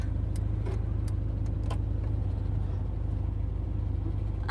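A car engine idling roughly after pulling over, with bad fuel and bad timing: a steady, uneven low rumble that runs throughout, with a few faint clicks and jingles on top.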